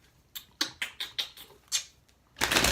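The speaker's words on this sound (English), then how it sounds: "3 more shuffles." Tarot cards being shuffled by hand: a run of six or seven crisp, riffling snaps in an uneven rhythm, close by, ending in a longer whooshing riffle.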